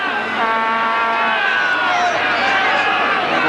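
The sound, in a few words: football crowd making noise at the Croatian Sports Centre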